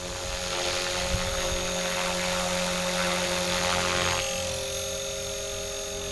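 A Blade Fusion 360 RC helicopter flying nearby, its high-pitched motor whine and rotor buzz steady throughout, shifting slightly in tone as it maneuvers, with no talking.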